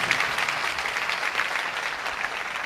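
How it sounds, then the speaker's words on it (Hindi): Loud, steady applause from a church congregation, dense clapping that holds evenly throughout without a break and with no voices standing out. "आओ ऐसे खुदा के लिए जोरदार तालियां बजाएं।"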